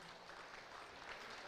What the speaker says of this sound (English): let's give a big round of applause to our alliance partners